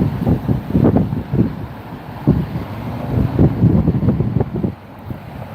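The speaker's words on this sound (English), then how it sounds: "So gusty, so windy here." Gusty wind buffets the microphone in rough, uneven bursts at Las Vegas airport, rising and falling with no voices heard.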